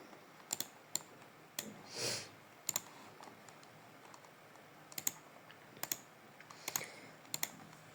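Typing on a computer keyboard while entering text in a document, sparse and quiet key clicks in small clusters, close up, with one soft sniff and no talking.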